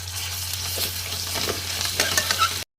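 Mustard seeds, onions and ginger-garlic paste fry in hot oil with a steady close sizzle, broken by crackles and the scrape of stirring.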